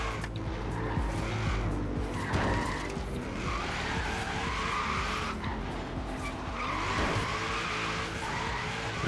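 A car drifting in Forza Horizon 3, continuous engine roar with repeated tire squeals rising and falling as it slides, loud and close with no talk.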